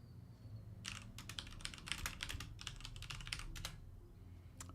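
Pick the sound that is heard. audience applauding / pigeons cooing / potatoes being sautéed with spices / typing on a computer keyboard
typing on a computer keyboard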